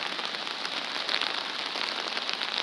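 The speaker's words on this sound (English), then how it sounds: "I just wish I wish it was not raining" Steady rain falling outdoors in Seoul during cherry blossom season, a dense even hiss of drops on surfaces holding at a constant moderate level throughout, with no voices.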